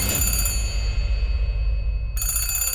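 An electronic telephone ring sounds steadily, a bright tonal warble that cuts off midway and then resumes, over a low background hum.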